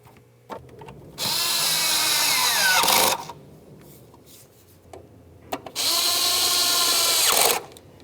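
A power drill or impact tool runs two sustained bursts, about two seconds each, snugging the front shock and spring assembly mounting bolts on a 2002-2005 Ford Explorer, close and loud with a pause between.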